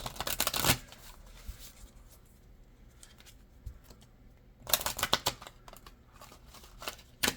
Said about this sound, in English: We're going to do 2 more oracle cards.